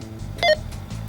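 A Midland GXT1000G two-way radio gives a single short electronic beep on power-up, brief and clear over a quiet background hiss.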